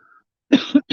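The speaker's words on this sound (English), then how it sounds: "the pepper in them makes me cough all the time." Three quick, close coughs in a row, loud and harsh, preceded by a faint brief tone.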